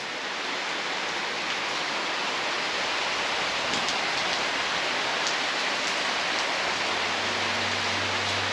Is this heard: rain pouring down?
yes